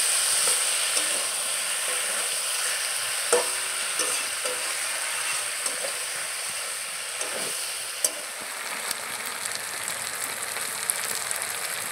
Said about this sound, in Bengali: খাসির ছাড়টাকে আমি মিডিয়াম ফ্লেমে 15 থেকে 20 মিনিটের জন্য কষিয়ে নেব ভালোভাবে